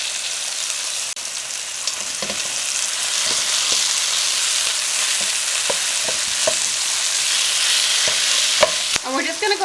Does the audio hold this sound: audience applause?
no